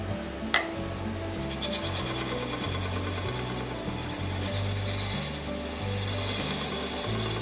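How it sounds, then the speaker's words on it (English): An epoxy resin shaving brush handle blank spins on a wood lathe as a tool cuts it, giving a steady rhythmic scraping with periodic ticks where the bandsaw mark passes; a sharp knock comes early and the cutting swells and eases. "that little click that you're hearing there, or should be hearing through the sound, is just the bandsaw mark"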